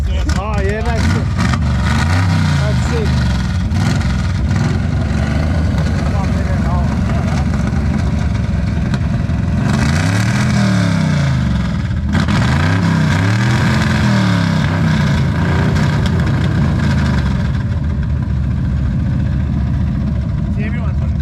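A 1926 Dodge-based rat rod with a high-revving Holden 202 six-cylinder runs loud and close, idling roughly with several rising revs, while people talk over it throughout.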